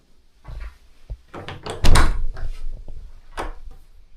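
A bedroom door in an old Scottish hillside cottage is opened, giving scattered knocks and a louder central thunk and creak among footsteps and handling noises, close and without talk.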